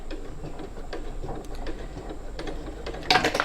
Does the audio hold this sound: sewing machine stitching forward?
yes